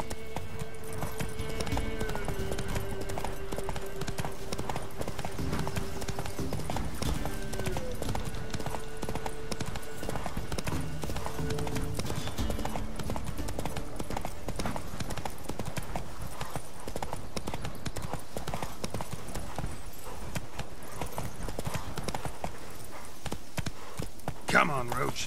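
Roach, the horse in The Witcher 3, gallops with a steady, driving clip-clop of hooves that continues throughout, set against game music with occasional voice sounds.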